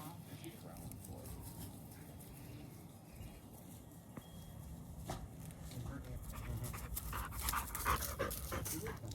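A puppy pants steadily and close by through the whole stretch, a soft continuous breathy rhythm with a few sharper bumps, while people talk nearby.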